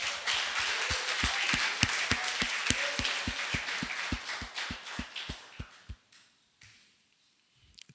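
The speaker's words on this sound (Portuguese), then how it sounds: "Vamos aplaudi-lo?" Audience clapping at a church gathering: a steady, fairly loud round of applause with sharp rhythmic claps that fades out after about six seconds into near silence.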